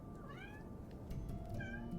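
A cat meows twice, a rising and falling cry followed by a second, over a low rumbling background, fairly close.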